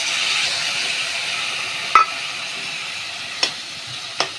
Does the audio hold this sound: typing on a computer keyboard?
no